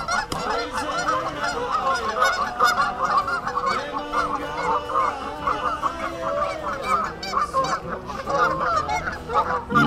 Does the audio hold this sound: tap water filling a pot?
no